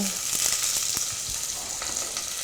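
Loud, steady sizzling of onion frying in a smoking-hot pot for shrimp sambal, with a few soft stirring clicks and scrapes.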